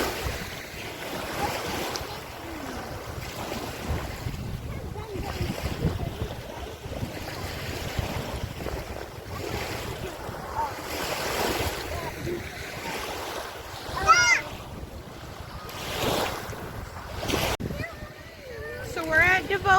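Choppy ocean surf at a beach on a windy day, a steady wash of waves with wind buffeting the microphone, while people talk nearby over the water noise.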